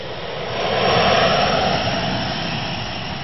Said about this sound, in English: You get thrown to the back of your seat as the jet fighter roars across the runway and then takes off